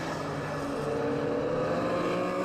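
Retro rallycross cars, including a 6R4, race on the last lap of the final at Pembrey, their engines a dense, continuous roar with layered revving at middle distance.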